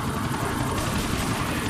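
Helicopter rotor and engine in GTA 4: The Ballad of Gay Tony, a steady, dense, loud drone with broadband wash and low rumble that holds level throughout without a break.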